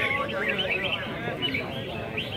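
Red-whiskered bulbuls at an outdoor song competition give bright, warbling phrases and chirps close by, repeated in quick bursts over background chatter and ambient crowd noise.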